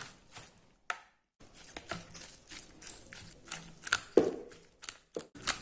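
Tofu being mashed with a fork, a series of irregular soft taps and squishes of metal against the bowl, close and fairly quiet, alone without talk.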